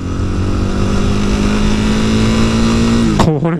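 A Yamaha WR250X motorcycle engine drones loudly and steadily up close, then revs sharply upward near the end with a rising, snarling pitch.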